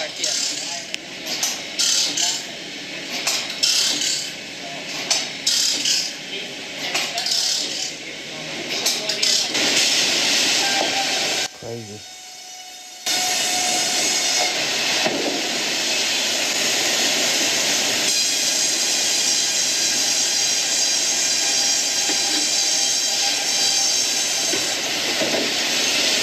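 A large sawmill blade cuts and edges logs, a loud, continuous roar of heavy machinery that dips briefly before resuming at full strength, with people talking over it.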